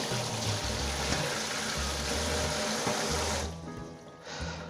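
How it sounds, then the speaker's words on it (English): Cured salmon gravlax rinsed of salt and sugar under a running kitchen tap, a steady close splash of water pouring over the fish that briefly thins and shifts near the end. "What we're doing here is just rinsing off all the salt and the sugar and any other residue"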